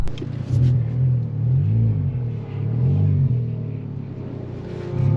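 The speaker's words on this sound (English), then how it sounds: "The exhaust is definitely louder than a stock one." A 2021 Honda Civic Type R Touring with a louder-than-stock exhaust drones from inside the cabin, its deep engine rumble swelling and easing in low waves as the car accelerates.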